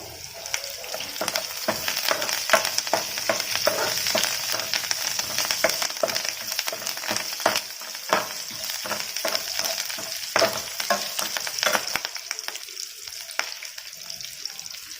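Curry leaves dropped into hot oil for an Andhra-style potato and cauliflower fry, a close crackling sizzle with scattered sharp pops and stirring, easing off near the end, no voices.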